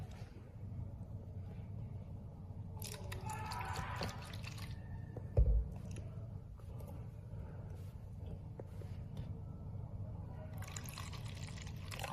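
About half a cup of vinegar is poured for a balloon experiment. A soft, brief splashing pour rises for a few seconds over a low steady background hum, followed by a single faint knock.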